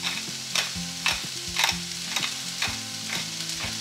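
Seasoned vegetables for Hakka noodles being stirred in a hot pan, a loud close sizzle with repeated rhythmic scraping strokes of a spatula roughly every half second.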